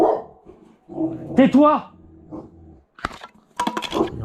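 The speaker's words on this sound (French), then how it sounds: "Il y a encore eu un chien ou un chat." A dog barks and whimpers at an outdoor flea market, several sharp close barks with a short growl, mixed with a voice speaking French.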